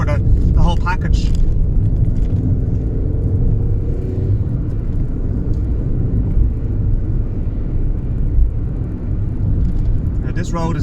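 A 2015 third-generation Skoda Fabia 1.0 MPI drives over a badly broken-up road, giving a steady low rumble and road noise with occasional bumps, while a person talks over it throughout.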